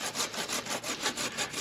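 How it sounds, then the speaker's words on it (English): Handsaw blade of a TelesPro extendable 12 ft tree trimmer cutting through a tree limb, with quick, even back-and-forth rasping strokes close by and no talking. "use the handsaw portion, and let's just see how this thing works as far as an actual handsaw"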